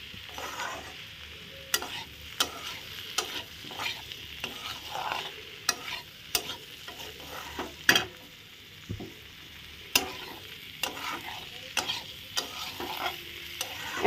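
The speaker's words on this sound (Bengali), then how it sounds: "ভালো করে আরেকটু কষিয়ে নিলাম যাতে কালারটা একটু ভালো হয় আর সুন্দর হয়" Turmeric-coloured papaya curry is stirred and sautéed in a pan, with a continuous close sizzle and frequent sharp scraping strokes of the spoon, and no voice.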